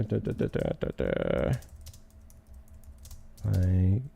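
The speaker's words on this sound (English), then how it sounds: "How do I do my keyboard shortcut again to search by keywords?" Computer keyboard keys tapped out in a quick burst of clicks, close and fairly loud, with someone speaking before and after the keystrokes.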